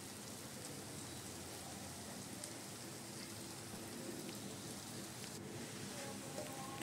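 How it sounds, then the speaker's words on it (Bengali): Shrimp frying in a pan for a mixed vegetable dish, giving a steady dense crackling sizzle at moderate level throughout, with no talking. "এবার আমি চিংড়ি মাছটা ভেজে নিচ্ছি।"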